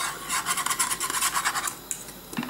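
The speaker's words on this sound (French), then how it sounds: "vous mélangez bien comme il faut avec le fouet" A whisk scrapes briskly and steadily through crème pâtissière in a pan over low heat, a close, continuous rasping with rhythmic strokes and a brief pause near the end.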